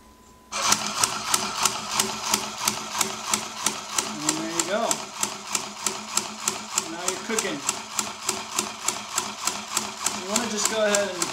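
A sewing machine hems boardshorts, sounding as a close, fast, even train of mechanical needle thumps that runs steadily throughout, with a voice speaking briefly over it.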